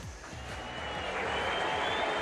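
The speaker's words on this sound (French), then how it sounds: "Ovation pour Jules Marie." Steady applause from a crowd around a central tennis court, loud and continuous with no break, rising slightly toward the end.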